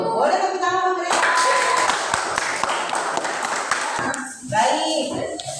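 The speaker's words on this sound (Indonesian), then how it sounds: "Boleh tepuk tangan mereka." Elementary school students clap in a classroom, a few seconds of close, scattered clapping set between bursts of a teacher talking, with a light tap or two during the applause.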